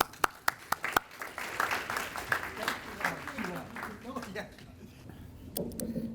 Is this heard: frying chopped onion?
no